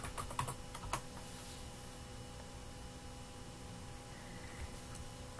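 Quick cluster of computer keyboard taps as a password is entered at a Windows 8 login screen, a few soft keystrokes in the first second followed by faint room hiss.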